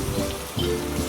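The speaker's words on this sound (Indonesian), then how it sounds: "saat hujan mulai mereda" Steady rain falls as a sound effect in a children's bedtime story, a dense, continuous patter of drops on a surface, close and even, with no voices over it.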